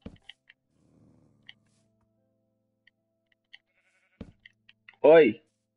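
One short sheep bleat from the Minecraft video game sounds near the end, after sparse soft clicks and near silence.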